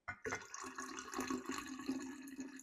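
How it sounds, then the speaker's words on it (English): Four cups of water pour into a pitcher for homemade Arnold Palmer iced tea lemonade, a continuous close splashing stream with a rising, gurgling fill tone, alone without talk. "I'm going to fill both of these up now with 8 cups of water."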